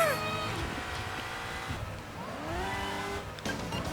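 A car engine revving in a racing video game, rising and falling engine tones with some tire squeal, heard under people talking.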